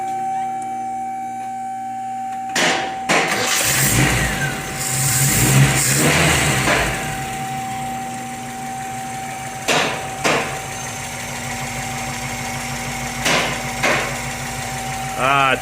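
A Nissan 240SX engine cranks and catches after a new carburetor install, settling into a steady idle hum in a garage, with a few sharp knocks and brief voices over the running engine.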